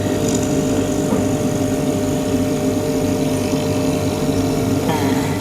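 A loud, steady mechanical hum of a chinchilla cage's built-in air conditioner running at a 15 °C setting, constant throughout with no pauses and no voices.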